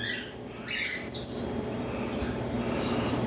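Canaries chirp near a gourd nest, giving a few bright tweets and short trills over a steady background hiss. The calls sound moderately close, and no one talks.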